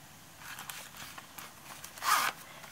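A zipper on a leather pen case is drawn along in small ticking pulls, then one quick louder zip near the end, close and otherwise quiet.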